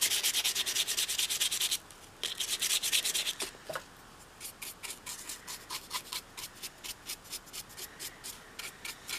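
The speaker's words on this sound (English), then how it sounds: "We sand and we're going to sand and we're going to sand." Fresh sandpaper rubs back and forth over a vintage doll, first in a long continuous scrub, then after a brief pause in quick, rhythmic short strokes, close and soft with no voices.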